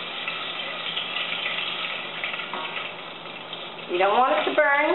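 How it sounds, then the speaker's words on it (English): Cumin and black mustard seeds frying in hot oil for Indian-style chickpeas and squash, a steady close sizzle with brief shaking sounds and a few faint pops, no talk. "You want it to fry for a few seconds."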